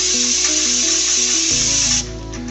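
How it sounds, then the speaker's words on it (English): A solvent spray gun on a BECCA S50M cleaner, still connected to air, is shaken to blow out solution: a loud, continuous hiss of rushing air over a low mechanical drone that drops and thins in the last half second. "With the air still connected, shake the spray gun to expel the solution."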